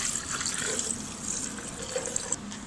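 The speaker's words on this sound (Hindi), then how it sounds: "अब हम सरदाई डाल देंगे।" Sardai, or thandai, a milky spiced drink, being poured into a jug over ice, a close continuous gushing pour with light splashes and faint clinks.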